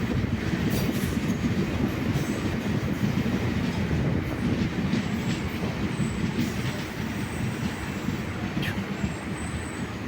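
A MEMU train runs on the rails between Kollam and Kottayam, a loud continuous rumble and rattle of wheels and carriages with faint high squeals, steady throughout with no speech.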